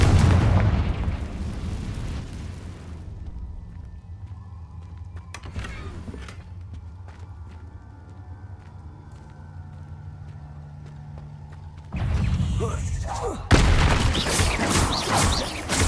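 The Confringo blasting spell in the Hogwarts Legacy game goes off in a heavy rumbling burst that fades into a quiet stretch of low ambience, then a second loud blast crackles near the end.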